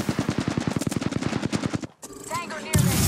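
Rapid automatic gunfire from Apex Legends, a steady burst of evenly spaced loud shots for about two seconds, then a brief pause and further distant combat noise.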